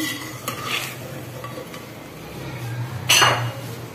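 Basmati rice cooked with jaggery scooped from a pot into a serving dish, soft scraping and stirring with a louder metallic clink of spoon on pot near the end, over a low background hum.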